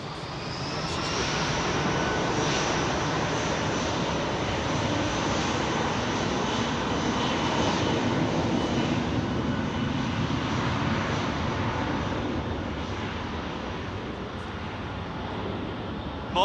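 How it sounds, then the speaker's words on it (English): A Saudi Arabian cargo Boeing 777 landing at Manchester at dawn, its engines a loud, steady broadband roar that holds for the full length with a slowly shifting whine, no voices. "Saudi Arabian cargo 777 landing"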